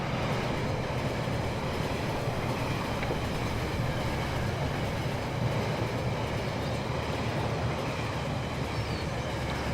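Trains in the Rolling Line video game give a steady, dense rumble of rail noise with a faint clickety-clack, continuous for the whole stretch and unbroken by speech.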